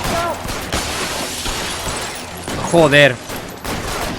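Shotgun blasts go off in the video game L.A. Noire, several sharp reports in close succession over a noisy firefight, with someone speaking and one loud shout partway through.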